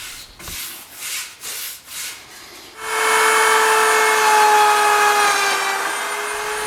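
A rag wipes Danish oil onto wooden shelves in a few rhythmic rubbing strokes, then a loud, steady power tool whine takes over.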